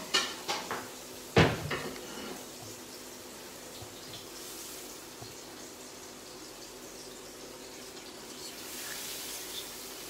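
Plates and dishes clatter in a home kitchen, with a few sharp knocks early and one loud ceramic clack, then quieter rummaging and faint background rustle.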